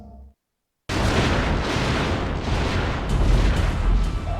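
Explosion in the video game Front Mission 4: after a brief silence, a loud, sustained blast of dense rumbling noise bursts in and keeps roaring with a slight swell toward the end.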